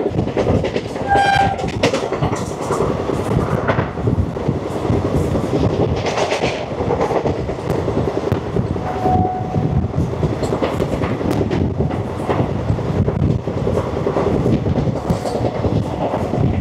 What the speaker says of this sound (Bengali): চলে আসছে ট্রেন নাম্বার 13-174 সাবরুম থেকে শিয়ালদা কাঞ্চনজঙ্ঘা এক্সপ্রেস।